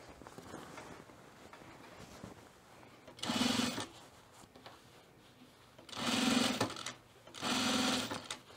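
A domestic sewing machine stitching the seam of a puffer vest in three loud bursts of steady whirring motor hum, each a second or two long, separated by quieter pauses.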